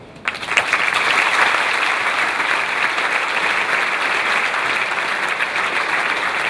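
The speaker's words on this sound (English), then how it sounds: "Give the man a round of applause." Sustained audience applause from a crowd at a Formula Student design review event, starting abruptly and holding steady and loud throughout.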